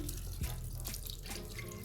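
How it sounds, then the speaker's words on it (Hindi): A little water is poured into a pot of bone-in beef for restaurant-style namkeen gosht, a steady close splashing gush lasting the whole moment with no talk. "अब मैं इसमें थोड़ा सा पानी डाल रही हूँ"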